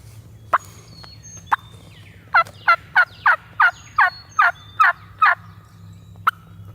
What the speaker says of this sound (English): Turkey flying out right there.